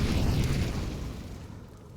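A Molotov cocktail thrown in a CS:GO match on Mirage bursts into a loud, low rumbling fireball that slowly fades over two seconds, with no talk over it.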